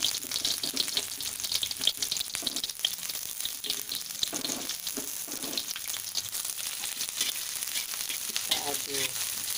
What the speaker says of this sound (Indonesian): Lalu kita tumis bawang putih. Dan bawang merah tentunya ya.